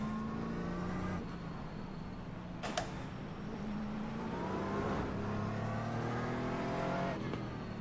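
A GT4 race car engine in the iRacing video game: a continuous buzzing drone that climbs through the gears with repeated upshifts and rising revs, plus one brief clack midway.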